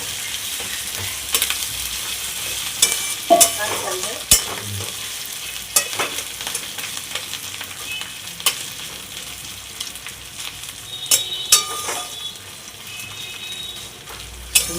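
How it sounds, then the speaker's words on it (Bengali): Bori lentil dumplings fry in a pan, a continuous sizzle broken by frequent scraping clicks and knocks as a utensil stirs them, close and clear with no talking. "দিয়ে দিলাম বড়ি, বড়িটাকে ভালো করে ভেজে নেব।"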